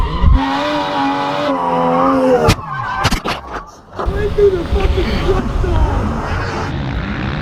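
Car drifting with loud tire squeal and revving engine, long screeching tones broken by a brief lull, then more squealing and engine noise close by.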